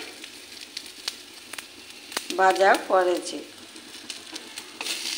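Fish roe and fresh eggplant fry in a pan over low gas with a soft, steady background sizzle, close by, while someone speaks briefly over it.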